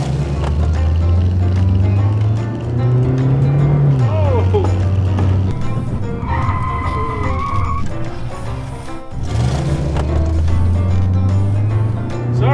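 A car on new wheels and tires drives along with a loud, steady engine drone that rises and dips with gear changes and rolling road noise, while people talk over it.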